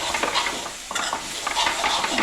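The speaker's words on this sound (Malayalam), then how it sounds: "ഇങ്ങനെ ഇളക്കണം." Kerala-style jackfruit leaf thoran stirred in a hot pan, a continuous close scraping and rustling with a soft sizzle underneath and occasional light clinks of the spoon against the pan.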